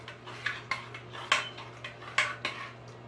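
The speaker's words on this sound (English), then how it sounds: "we just keep stirring until there isn't any more chunks floating around" Handmade soap mixture being stirred until no chunks remain, a utensil clinking and scraping against the container in a handful of separate knocks, near and fairly quiet over a steady low hum.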